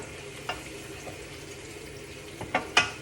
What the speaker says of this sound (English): we're just gonna let this garlic cook a little longer